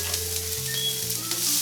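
Garlic and onions sizzle loudly in a hot frying pan, a dense continuous hiss and crackle that stays close and steady throughout, with no voice over it.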